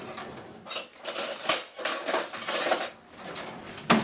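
A spoon scrapes and clinks against a bowl while oats are stirred into a thick cocoa no-bake cookie mixture, with repeated uneven strokes close by and a sharp knock near the end.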